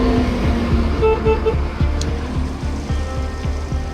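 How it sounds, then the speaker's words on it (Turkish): A car horn honks in short repeated bursts during a parking dispute in Turkey, over steady road and engine noise, with traffic rumbling throughout. "niye korna çalıyorsun?"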